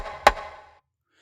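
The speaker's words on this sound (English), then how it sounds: "Got a snare type sound" A single short snare-like percussive hit from an African thumb piano sample, a close dry thump that rings out and decays within about half a second, then silence.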